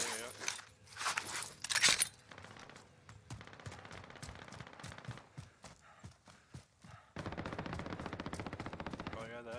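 Gunfire in the video game Call of Duty Warzone, a string of sharp shots with echoing tails and rapid bursts over footsteps and game noise, ending in a steadier rumble.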